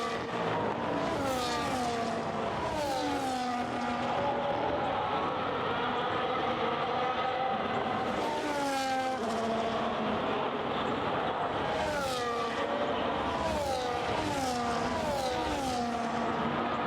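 Formula racing cars in a racing video game at the Chinese track, high-pitched engines whining past in repeated waves, rising and falling in pitch as the cars pass close by and accelerate.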